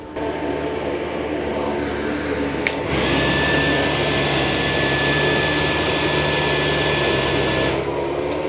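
A Dyson 360 Vis Nav robot vacuum in auto mode working over tall, fuzzy carpet full of dirt runs as a loud, steady whirring drone, then ramps up abruptly into a higher-powered roar with a whine and holds there.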